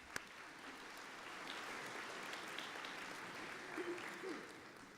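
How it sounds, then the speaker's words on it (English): Applause from a commencement crowd at a fall graduation ceremony, a steady, moderately distant wash of many hands clapping that holds for about five seconds without pause. "Let's give them a round of applause, please."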